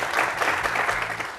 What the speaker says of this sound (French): Applaudissez-vous, applaudissez-vous.